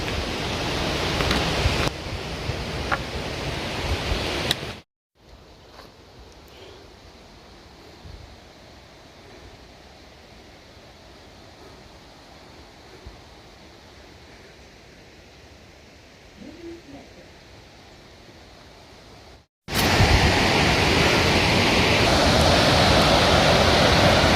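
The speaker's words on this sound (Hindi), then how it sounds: "ये पानी का शोरगुल से हम आगे बढ़ रहे हैं" Rushing water roars steadily through a dense mountain forest in Uttarakhand along a walking trail, a broad continuous wash that is loud at the start and end and softer through a long middle stretch.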